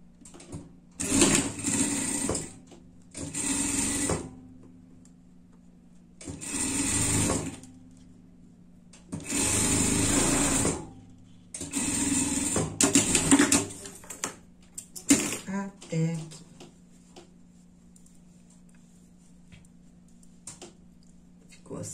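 A sewing machine stitching fabric for a sheep-themed pet costume runs in five close, loud bursts of a second or two each, separated by pauses, with a voice talking between bursts.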